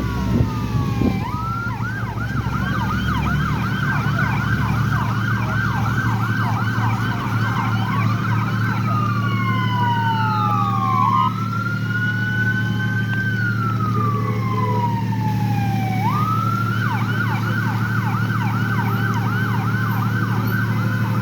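An ambulance siren wails on a city street, loud and sustained, cycling through fast yelping warbles and slower rising-falling wails for about twenty seconds over steady vehicle engine rumble.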